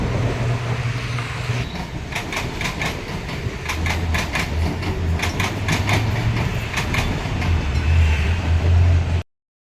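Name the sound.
train at Mumbai railway station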